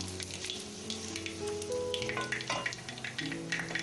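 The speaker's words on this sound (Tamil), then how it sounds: "அப்புறம் கடுகு வெடிச்சிருச்சு" Mustard seeds crackle and pop in hot oil with a busy sizzle, quick bursts scattered over a low tonal hum nearby.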